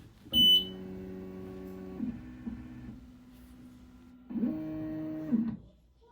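An xTool S1 enclosed diode laser cutter powers on: a brief loud beep followed by steady electronic humming tones that shift pitch, then a second rise in hum near the end.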